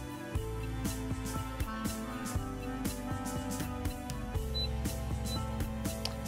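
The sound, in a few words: resin 3D printer Z-axis lowering to the bottom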